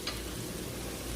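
Butter, onion and garlic sizzle in a pan, a brief steady hiss with light crackle, close and moderately quiet, no talking.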